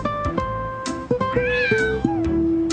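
A stray alley cat meows repeatedly, its rising and falling cries sounding close and clear over a steady musical backing.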